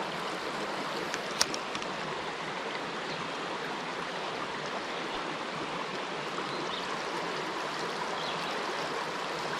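A small creek in the Petit Jean State Park canyon flows steadily, its continuous broadband rush of running water close and fairly loud, with no voices over it.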